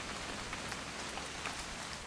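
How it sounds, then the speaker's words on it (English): Steady rain patters and hisses evenly in the video game What Remains of Edith Finch, a soft, constant wash with no voices over it. "It's gonna rain the whole weekend, isn't it?"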